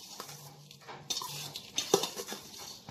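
A spoon scrapes and clinks against a metal vessel while tamarind rice is stirred and mixed, giving soft irregular scraping with a few sharper taps, close and fairly quiet.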